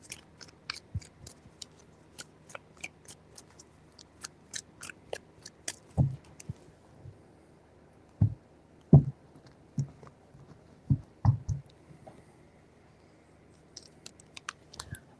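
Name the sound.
shuffling tarot cards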